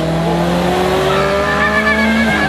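A Ferrari F40 drives hard and slides, with its engine note sweeping up and down under squealing, skidding tires, loud and close for the whole stretch with no voices.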